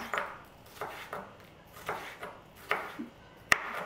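A knife chops a small red kapya pepper on a cutting board for chicken soup, with about eight quiet, unevenly spaced strikes and a sharp metallic ping near the end, close by in a quiet kitchen.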